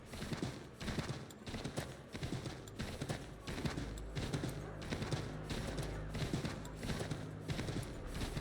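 Rapid, rhythmic hoofbeats pound steadily throughout, like a horse galloping at full speed in Assassin's Creed III Remastered, close and fairly loud over a low rumble.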